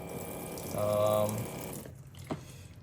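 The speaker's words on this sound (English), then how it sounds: "overall, pretty happy with the sink, and the water pressure is good" Water runs from the faucet of a portable Mighty Sink, a gentle, steady flow that swells for about a second and then eases off, close by and moderately loud, with a brief knock near the end.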